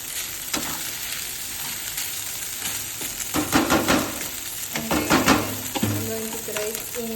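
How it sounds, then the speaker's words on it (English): Food sizzles and fries in a pan while a utensil stirs in smoked paprika, giving steady close frying hiss with louder scraping strokes toward the end. "Okay, give it a bit of a stir."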